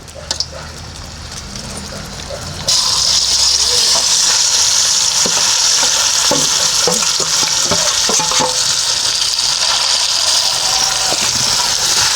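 Chicken dropped into a pan with garlic, cumin and chilli for a chicken curry bursts into a loud, close sizzle, followed by steady frying and scattered stirring knocks.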